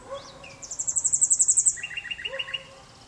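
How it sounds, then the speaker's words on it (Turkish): A nightingale perched in a pine tree sings nearby: a rapid run of bright repeated notes, then a lower trilled series and a few whistled slurs, clear over quiet outdoor background. "Bu da çama konan bülbül."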